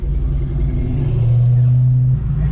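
A fifth-generation Camaro SS with a tuned exhaust idles nearby, a deep steady rumble with a low droning hum that holds for a moment, then drops away.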